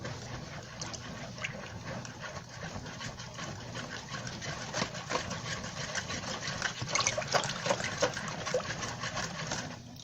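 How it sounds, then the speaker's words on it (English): Vegan chocolate cake batter whisked in a bowl gives a steady, wet scraping with quick clicks of the whisk, moderately loud and unbroken for the whole stretch with no talking. "you're gonna whisk that all together, like I'm about to do right now"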